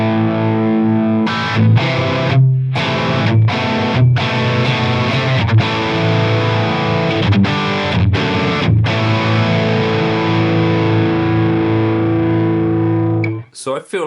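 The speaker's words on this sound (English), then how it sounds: "it's kind of characterised as a fairly tight, sort of sizzly distortion sound" Heavy, tight distorted electric guitar chords played through a Peavey 5150 amp model in a Line 6 Helix, sizzly and bright, sustained with brief palm-muted stops, loud and close, no talking.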